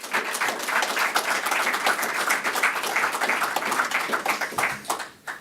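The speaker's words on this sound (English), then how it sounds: "So let's give a round of applause for these folks as well as the team that hires them." Audience applause at a police badge pinning ceremony, steady dense clapping from a sizable crowd that holds for several seconds before starting to thin at the end.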